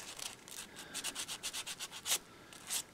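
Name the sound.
sanding a carved wooden Santa with fine grit sandpaper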